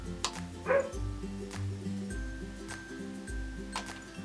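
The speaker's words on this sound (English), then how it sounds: "I'm really sorry that my dog is going nuts." A pet dog barks and yips indoors in quick, excited bursts, some sharp barks standing out over a low background hum, with a few softer whimpery yelps mixed in.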